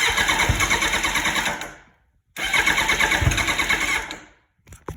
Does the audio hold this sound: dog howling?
no